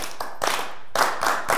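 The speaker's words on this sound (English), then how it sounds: "Let me hear it with your claps." An audience at a spirited call-and-response performance claps in unison, a loud, even series of about six rhythmic group claps.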